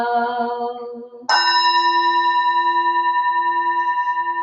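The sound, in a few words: bell rung during public service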